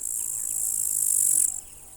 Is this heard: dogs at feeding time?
no